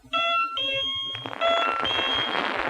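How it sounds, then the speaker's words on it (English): A motion-triggered shed alarm goes off, sounding as loud electronic tones that pulse briefly, then settle into a steady piercing wail, close and alone. "that's the glorified shed alarm. And it's just set off by a certain amount of movement."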